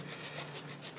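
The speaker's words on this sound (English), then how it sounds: "The long drawn out process of sanding the" Rhythmic scratchy rasping of sanding a cork stopper for an antique liquor decanter, about eight back-and-forth strokes in quick regular succession, close up.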